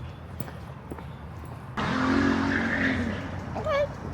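A car speeds along a street outside, its engine surging loud from about the midpoint with a brief tire squeal near the end, following quieter street background.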